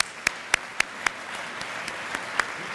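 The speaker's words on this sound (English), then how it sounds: "One more round of applause for them," A round of applause at a chamber of commerce networking luncheon, thin and scattered, with a few sharp distinct claps standing out at a regular pace over a soft background of lighter clapping.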